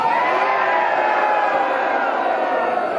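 A large crowd at a political rally in Denver booing loudly, a dense, sustained roar of many voices holding steady throughout with no pauses.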